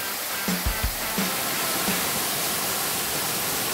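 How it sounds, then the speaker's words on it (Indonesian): Matajitu waterfall on Moyo Island, Indonesia, roaring as a loud, continuous broadband rush of falling water close by, with a few low thumps early on and no talk. "Ya, saya lagi di air terjun Matajitu."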